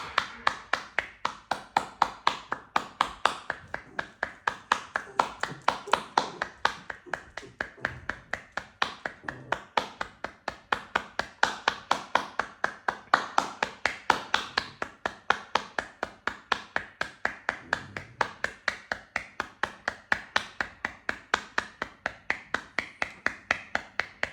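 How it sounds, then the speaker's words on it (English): Hands clap over and over at a steady, brisk rhythm for the whole stretch during a breathing exercise, each sharp clap close and even, with a soft undertone of breath and no speech. "Breathe out and clap as you push out your breath and hold it."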